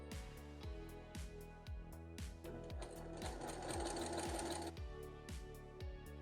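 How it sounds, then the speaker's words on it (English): A straight stitch sewing machine sews down a sweatshirt sleeve with a quick, regular needle thump, close by, swelling slightly louder midway through before settling back into the same steady rhythm. "I only have a straight stitch machine, so I am going to sew it down the sleeve twice"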